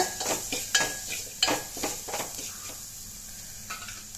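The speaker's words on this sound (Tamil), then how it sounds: "பூண்டை எண்ணெயிலே கொஞ்சம் நேரம் வதக்கி விடலாம் மீடியம் ஃப்ளேமில் வச்சு வதக்குங்க" Crushed garlic sautéing in oil on medium flame for rasam makes a light sizzle broken by a few clinks and scrapes of a spoon against the pan, short and close, no talking.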